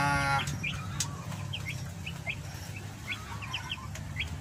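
Broiler chickens clucking in a small backyard poultry pen, several short repeated clucks and calls over a steady low background hum, with no talking.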